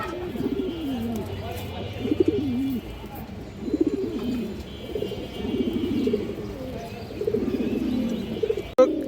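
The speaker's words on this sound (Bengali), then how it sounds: "এই যে দেখেন কবুতর" Pigeons at a loft with Rampuri and Pakistani breeds coo in repeated rolling phrases, dense and close, while someone talks over them throughout.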